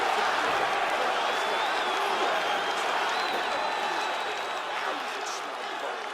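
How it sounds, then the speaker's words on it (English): A virtual arena crowd in the UFC 4 video game roars and applauds between rounds, a dense, sustained wash of cheering and clapping at steady loudness, fading slightly toward the end. "the crowd voicing its appreciation after that crazy sequence in the previous round"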